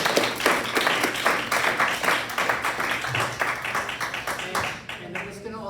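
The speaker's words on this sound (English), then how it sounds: "big round of applause for our speakers" A room full of people bursts into sustained applause for the speakers at a stained glass program, with dense overlapping clapping that carries steadily and then thins out toward the end.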